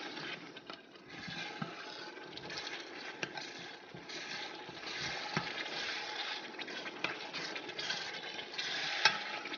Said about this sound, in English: Add my meat stock and I turn it.